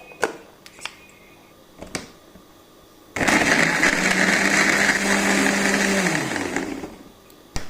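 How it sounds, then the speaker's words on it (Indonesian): Kitchen blender whirring loudly as it blends red chilies with water into a satay spice paste, starting abruptly after a few soft clicks and knocks, running steadily for about four seconds, then winding down in pitch and stopping. "Oke, sekarang kita blender ya. Sebelumnya kita tambahkan air agar lebih mudah."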